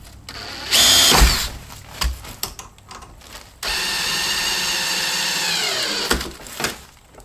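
A power drill drives big, long heavy-duty screws into softened wood while rebuilding a plate on an old mobile home, with a loud whirring burst early on, scattered knocks, then a long steady sustained drive that winds down near the end.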